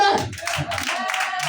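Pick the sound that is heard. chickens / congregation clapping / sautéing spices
congregation clapping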